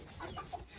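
Chickens clucking while gorging on food in a backyard flock, a few soft, close clucks and murmurs over low background rustle in under a second.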